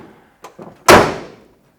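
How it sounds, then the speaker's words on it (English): The passenger door of a 1978 Ford Bronco Ranger XLT shuts with one loud, close, solid slam, preceded by a couple of faint latch clicks, then the sound decays into quiet. "Close the door."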